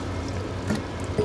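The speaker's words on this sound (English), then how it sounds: "To that, I am going to add 3 cups of water." Water is poured into a medium saucepan of roughly chopped strawberries, giving a short, close liquid splash and trickle that runs steadily for just over a second.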